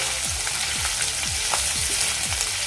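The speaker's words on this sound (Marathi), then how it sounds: "व्यवस्थित असे खरपूस आपण ते भाजून घ्यायचं" Dried bombil fish roasts crisp in a hot pan with a loud, continuous sizzle. Several sweeping scrapes of a spatula cut through the crackle at a steady pace.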